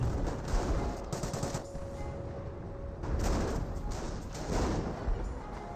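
Grenadiers firing in the Company of Heroes real-time strategy game, bursts of rifle and machine-gun fire with rumbling battle noise, dense and continuous at moderate level, no speech.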